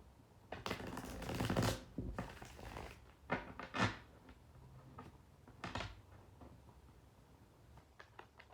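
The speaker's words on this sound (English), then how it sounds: "Last shuffle." Tarot cards being shuffled by hand, with bursts of riffling and rustling that come in irregular clusters and a few soft taps, close and fairly quiet with no talking.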